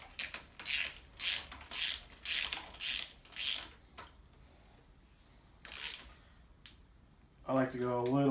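Wrench ratcheting while tightening parts on an 85 Honda CRX B18 engine swap, about seven short close bursts of clicking in a steady rhythm, then a pause, one more burst and a brief voice at the end.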